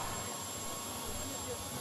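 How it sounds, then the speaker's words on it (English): Helicopter turbine engines starting on a tractor pull machine at the National Farm Machinery Show finals, a faint steady whine and roar spinning up under someone talking. "you hear the rotor start turning, you hear the turbine starting to turn down there"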